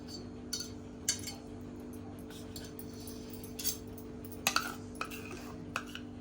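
A spoon mixing condensed milk into curd in a bowl, soft scattered clinks and scrapes against the bowl at an uneven pace, close and quiet over a steady low hum, with no talking.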